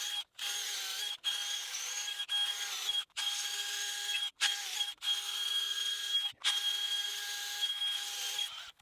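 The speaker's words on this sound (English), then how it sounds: "So I'm not drilling very deep," A power drill boring shallow holes into a hard, unrotted tree stump cut about two feet tall, a steady high whine in repeated bursts broken by short pauses, close and alone.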